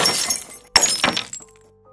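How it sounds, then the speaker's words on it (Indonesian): A ceramic teacup drops and shatters, one sharp crash followed by a second burst of breaking pieces and scattering shards, then fading into a faint lingering tone. "Suara cangkir teh milik Bude yang jatuh pecah berhasil membuatku sadar."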